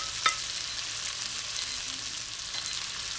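Beef and noodles in sate sauce stir-fried in a hot pan, with a continuous bright sizzle and one sharp utensil knock near the start, no voices.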